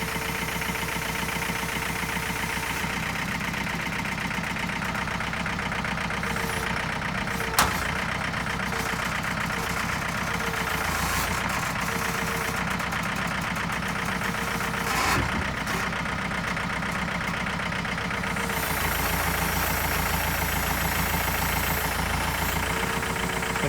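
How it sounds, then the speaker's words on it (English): A tractor engine runs steadily while lifting a Suburban body off its frame, a continuous loud mechanical drone with a low rumble, a couple of brief knocks and a slight rise in revs toward the end. "They're going to try to pull the body off the frame on this Suburban. We're not sure if the tractor can lift it or not."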